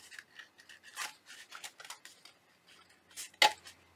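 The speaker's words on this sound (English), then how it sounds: "I'm going to take the scissors and we're going to trim this piece up here." Scissors trim a piece of paper in a craft setting, giving a quiet run of rapid snipping and crisp rustling cuts close by, with one sharper snip near the end.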